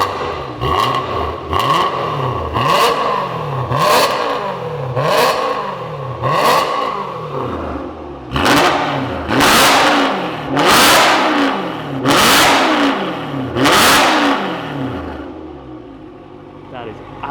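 A BMW E92 M3 with a loud custom exhaust is revved repeatedly and hard, each rise and fall of the engine note in a rhythmic series of roaring bursts, close and loud throughout.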